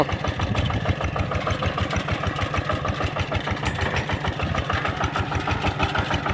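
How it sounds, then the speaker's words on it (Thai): Engine-driven rice seed drill running steadily in a dry paddy field, a close, loud, continuous mid-pitched engine chug with rapid regular pulsing and no talk over it. "นี่คือเครื่องหยอด หยอดซีแถวครับ"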